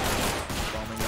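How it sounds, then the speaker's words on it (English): Artillery barrage in the World War II shooter Day of Infamy, a dense, continuous rumble of booming impacts and crackling gunfire filling a brief moment without pause. "Artillery."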